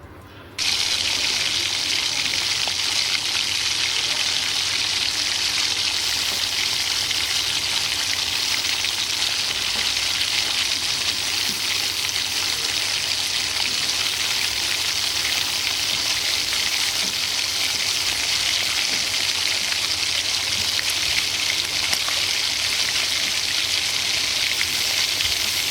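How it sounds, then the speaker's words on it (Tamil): Steady, loud sizzling of onions, tomatoes and spices sautéing in hot oil in a pan for tomato kurma, continuous throughout with no talking. "நம்ம காட்டின இன்க்ரீடியன்ட்ஸ் எல்லாம் போட்டு நல்லா வதக்கி எடுத்துக்கலாம்."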